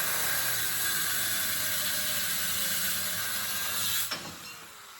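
A ratchet runs on an A-frame bolt of a NASCAR Craftsman race truck, a steady close whirring hiss that cuts off abruptly near the end, leaving a quieter tail.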